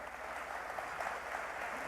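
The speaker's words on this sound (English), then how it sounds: "clap, please" A tech talk audience claps, heard as a steady wash of applause that stays fairly faint and distant throughout the two seconds.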